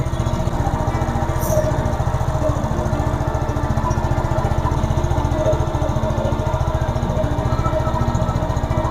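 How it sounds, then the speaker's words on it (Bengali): A motorcycle on its double stand runs in first gear while its chain gets a WD-40 chain cleaner spray, the engine putting out a steady, close, even idle-like chug for the whole stretch with no voices. "এবার আমি চেন স্প্রে করব।"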